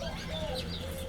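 Bird calls ring out near a porch on an Arizona homestead, a couple of drawn-out whistled notes over a constant low background hum, moderately loud and without any voices.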